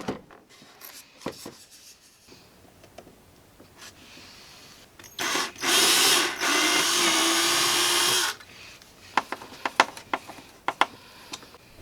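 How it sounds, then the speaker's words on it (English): A power drill bores screw holes for the landing gear on a large 84-inch span F8F Bearcat model airplane, one steady loud burst lasting about three seconds between quieter handling clicks and taps. "I test fit the landing gear before drilling the screw holes."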